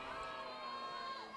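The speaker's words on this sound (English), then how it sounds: "Encouragements to pitcher Kylie Kofeld heard throughout the crowd" A softball crowd at an Ohio vs Marshall college game cheers encouragement to the pitcher, a faint, sustained mix of shouts and high voices from the stands.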